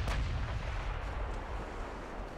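Naval artillery gunfire in the warship game Ultimate Admiral Dreadnoughts, a heavy booming rumble from the opening shot that rolls on continuously, deep and muffled, with no voices.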